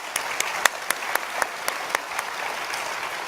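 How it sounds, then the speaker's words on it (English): A corporate conference audience claps in a thin, scattered patter, with individual sharp claps standing out against a soft, steady background of applause. "Let's give these companies a round of applause."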